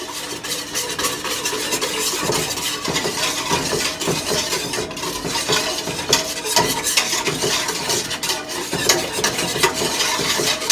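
A home soft serve ice cream machine churns its mix with a steady whirring, scraping stir that runs on continuously and fairly loud, without pauses or talk.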